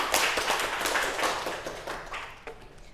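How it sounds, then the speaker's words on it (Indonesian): Classroom applause from schoolchildren during a teaching session, a burst of quick overlapping claps that starts loud and tapers off over about three seconds, ending with a few scattered claps. "Beri tepuk tangan."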